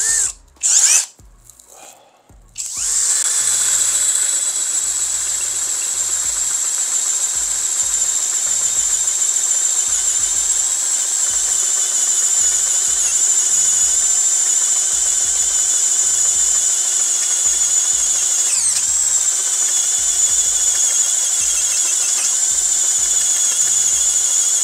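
A FortG brushless drill driver runs steadily with a worn drill bit boring through material, a loud continuous whine after a few brief starts, holding nearly unbroken for about twenty seconds.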